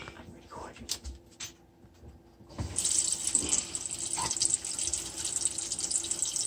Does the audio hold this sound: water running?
yes